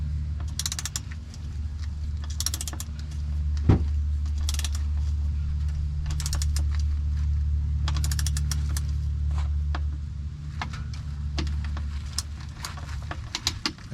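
Ratchet with a 14mm socket tightening the drain bolt on a 2015 Subaru Impreza Sport's CVT TR580 transmission, rapid clicking bursts of the pawl repeated in short strokes over a steady low hum, close up, with no talking.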